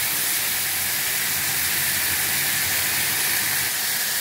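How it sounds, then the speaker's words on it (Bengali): Spice paste fries in oil in a pan while cooking a kofta curry, giving a steady, dense close-up sizzle and hiss that holds evenly throughout without any voices. "মশলাটা কষানো হয়ে যাচ্ছে।"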